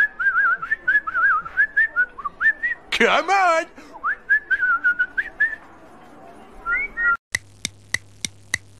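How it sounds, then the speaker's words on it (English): A man whistles a series of short, wavering melodic phrases close by, broken by a harsh burst of noise and a few spoken words, ending with sharp rhythmic knocks. "Hello boys, ready to do some whistling?"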